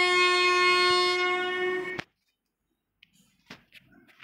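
A train in an Indian railway video game sounds a long, steady horn blast at a level crossing, then cuts off abruptly, leaving near silence broken by a few faint clicks.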